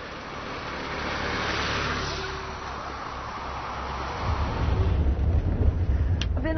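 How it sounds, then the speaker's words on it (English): A steady engine and road rumble fills a bus riding toward Wanquan River in Hainan. The low drone stays constant, then grows rougher and louder over the final seconds. "I've been on the bus for about 2 hours now"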